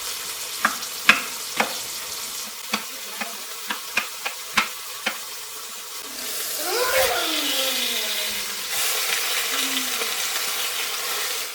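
Food browning in a pan, with a quiet sizzle building in the second half after a run of sharp knife taps from chopping half an onion on a board.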